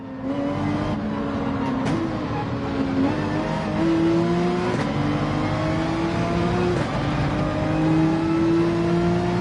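A Porsche 911 race car engine in the Gran Turismo 7 racing game, a continuous droning roar rising and shifting pitch through several gear changes, steady and prominent with no talking.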